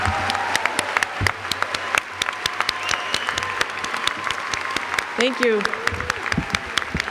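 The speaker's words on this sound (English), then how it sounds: "Let's applaud the class of 2026" Applause from a large audience at a medical school white coat ceremony for incoming physicians in an opera house, steady dense clapping throughout, with a voice speaking briefly over it near the end.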